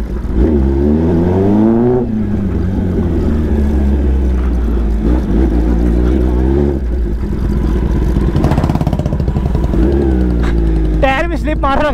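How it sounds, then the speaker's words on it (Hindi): A Kawasaki ZX-10R launching with its rear tire slipping, a loud roaring engine with rising and falling revs close by, excited voices talking over it throughout. "टायर में स्लिप मार रहा भाई"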